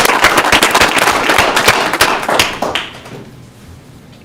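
At a school district board meeting, a round of applause breaks out loud and close, with sharp individual claps in a dense burst that dies away over a few seconds into near quiet.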